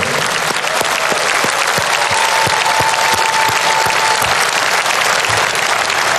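A large audience applauds steadily, dense overlapping claps forming a continuous loud wash that holds at an even level from start to finish.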